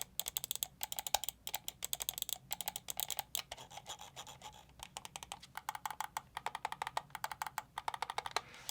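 Rapid, faint clicks from a Fnatic Bolt mouse's buttons patter in quick irregular bursts, light and close against a quiet background.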